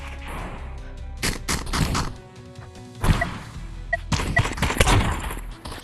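Gunfire from a sniper rifle in a multiplayer shooter video game, sharp repeated shots spaced through the clip amid busy game sounds and effects, loud and close.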